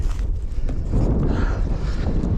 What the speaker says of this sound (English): the wind's here, but it's still good